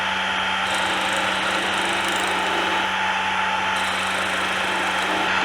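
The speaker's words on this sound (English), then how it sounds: "So it always looks smaller when you're turning it than what it is. And we're just going to work this back a little at a time." A wood lathe spinning a turned piece in a woodworking shop, a constant loud motor whine with a steady tonal hum, sounding alone throughout with no talking.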